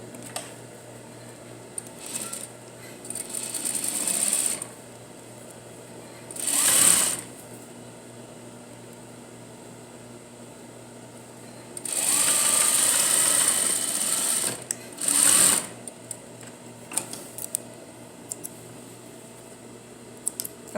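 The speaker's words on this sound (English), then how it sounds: "then we sew our 1/2 inch seam" Sewing machine stitching a half-inch seam through denim on the back of a pair of jeans, running in several short bursts of varying length separated by pauses, fairly close and clear.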